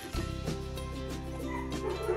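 A hungry dog yips, barks and whimpers in short close bursts, loud against a kitchen background where chicken is being fried.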